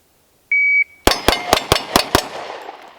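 A shot timer gives one short electronic beep, then after a brief gap a handgun fires six loud, sharp shots in quick succession with fading echo; no talk.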